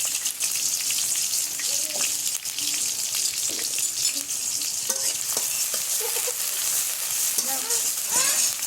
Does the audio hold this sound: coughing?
no